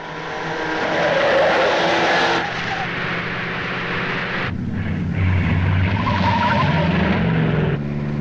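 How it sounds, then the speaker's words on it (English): Car chase from the 1942 film The Man Who Wouldn't Die: loud, continuous engine roar with squealing, skidding tires, dense and sustained, with dialogue faintly mixed in. "There's a shootout, and then there's a pretty exciting car chase."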